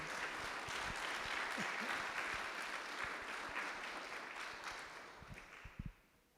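A crowd at a presentation applauds in a full, sustained burst of many clapping hands that slowly thins and fades out toward the end.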